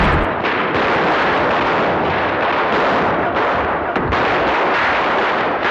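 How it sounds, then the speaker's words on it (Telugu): Firecrackers burst in a loud, continuous barrage of overlapping blasts and crackling pops, dense and unbroken, with no speech. "టపాకాయలు కాల్చిపోతే ఎలా?"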